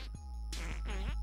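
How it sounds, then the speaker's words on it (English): A cartoonish fart from the video game South Park: The Fractured But Whole, a short burst followed by a longer sputtering, bubbly blast, loud and close with no talk over it. "I'm farting on him."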